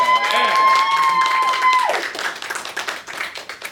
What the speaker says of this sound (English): everyone give a round of applause for Chris Biggs